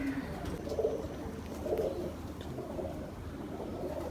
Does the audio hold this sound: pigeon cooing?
yes